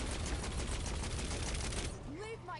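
A laser weapon in Saints Row 4 fires a dense, loud, crackling stream of rapid shots for about two seconds, then cuts off, leaving fainter warbling electronic tones.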